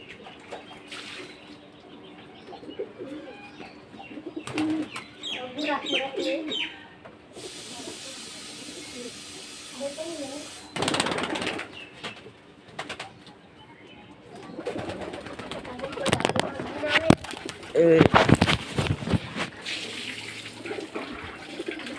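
Pigeons in a loft with nest boxes coo softly at intervals, with bursts of wing flapping and scuffling, alongside a stretch of hissing noise and some running water.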